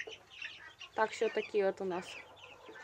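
Chicks almost a month old cluck and peep in a quick run of short calls at close range while someone talks over them.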